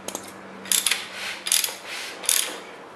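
A Chrysler 440 engine is turned over by hand with a ratchet during cam and timing chain installation, giving three quick bursts of clicking ratchet pawl sounds separated by brief pauses, close and clear.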